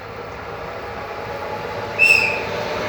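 Train pulling out of Ribes de Freser station toward Puigcerdà, a steady low rumble of the moving cars with a brief sharp squeal or whistle tone rising near the end.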